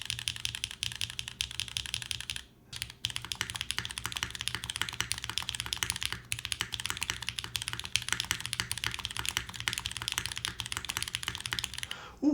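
Typing on a Mode Loop TKL mechanical keyboard, rapid clacking keystrokes in a steady close stream with a brief pause near the start, no voices.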